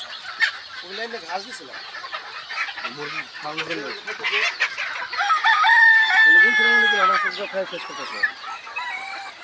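Rooster crows and hens cluck continuously on a mixed Egyptian Fayoumi and native chicken farm, a loud layered flock chorus with a clear crow rising mid-clip over the steady clucking.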